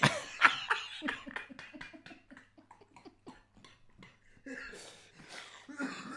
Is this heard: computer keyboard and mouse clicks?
no